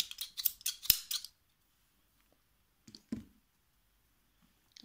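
Scissors snip yarn short after a knot is tied on an amigurumi cloud teether rattle, a quick pair of soft clicks in a quiet room following a burst of rustling handling.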